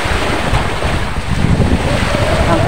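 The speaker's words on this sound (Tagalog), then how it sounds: "Pasensya na po kayo kung medyo makakarinig kayo ng sound ng alon, dahil talaga po ito lang po ako sa tabing dagat." Sea waves wash continuously on the shore beside a beach, a loud, rough broadband roar mixed with wind buffeting the microphone, with no one speaking over it.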